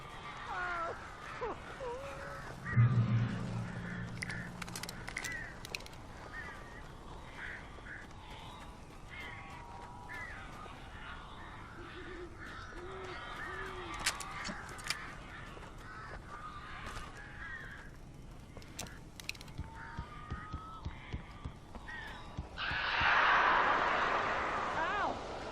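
Crows caw in the Alan Wake video game, scattered harsh calls over about twenty-five seconds mixed with other game sounds and talking, ending in a louder noisy rush.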